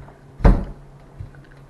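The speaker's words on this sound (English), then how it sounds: "Stupid door." A single sharp thud of a door inside a house, opening or closing nearby, with a faint softer knock a moment later against a quiet room hum.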